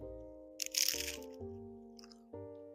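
A single crisp, close crunch comes from a bite into a sweet orange brie hors d'oeuvre, set among sustained hums of a voice savoring the taste.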